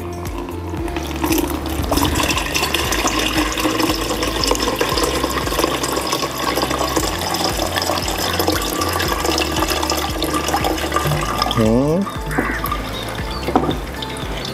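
Fizzy fermented liquid is poured through a strainer, making a steady, close rushing and trickling of water that runs continuously, with a short gurgle near the end.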